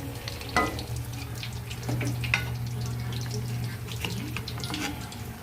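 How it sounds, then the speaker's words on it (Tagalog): Tilapia fries in hot oil until crispy, a steady sizzle and crackle with scattered pops and a faint kitchen hum running underneath. "Kaya mag-iitira ako ng isa na para prito lang siya ng malutong."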